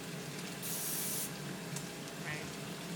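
Soapy water with dish detergent spritzes from a reused power wash spray bottle in one bright hissing burst, then a shorter, softer spray follows, close up in a quiet room.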